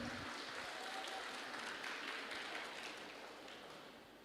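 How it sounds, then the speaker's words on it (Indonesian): A hall audience at a halal bi halal gathering of Islamic education teachers in Jember applauds steadily, a dense wash of clapping that fades slightly toward the end. "Kita iringi sekali lagi dengan tepuk tangan yang meriah."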